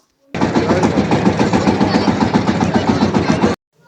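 A shallow-pump engine boat chugs steadily and loudly nearby on the water with a fast, even rhythm, starting and stopping abruptly.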